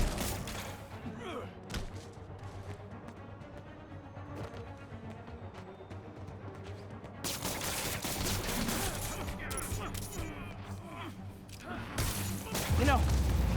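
Gunfire from enemies in the video game Marvel's Spider-Man Remastered, with repeated sharp shots and thuds over game music and voices, growing louder and denser partway through as the fight picks up.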